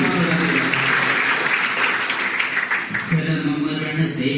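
Loud applause from an audience at a Jain devotional poetry recital, a thick, sustained roar of clapping that briefly dips before a voice begins speaking over the tail of it.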